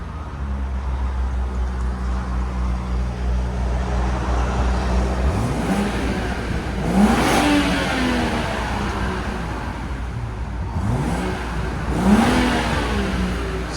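A 2017 BMW 740i with a 3.0L turbocharged inline-six and stock muffler idles low and steady, then revs twice in rising, sweeping bursts around seven and twelve seconds, each settling back to idle.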